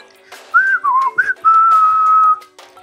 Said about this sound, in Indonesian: dikhawatirkan oleh Wiro, dia pun duduk di buritan itu sambil bersiul-siul.